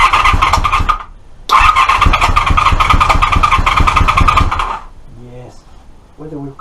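An old car engine with a little choke applied cranks over, then catches and runs in a steady, loud chugging idle, stops briefly, restarts and runs on before cutting out, leaving a few quiet speech-like sounds at the end.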